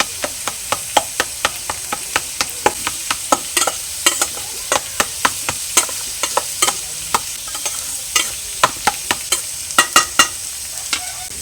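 Eggplant and tomato being stir-fried in a pan with a metal spatula, a steady sizzle broken by frequent sharp scraping clacks at an uneven rhythm, close and with no talking.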